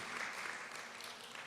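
Steady applause from a church congregation honoring a married couple of 62 years, a dense, even patter of many hands sustained throughout without a break.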